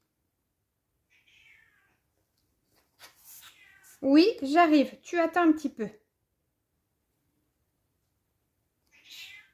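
A house cat meows a couple of times, faint and brief at the start and end, while someone speaks French in between.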